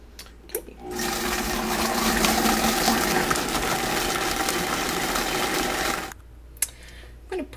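Blender pureeing raw food with a pinch of salt, one steady loud whirring run of about five seconds that starts and stops abruptly, with brief clatter before and after.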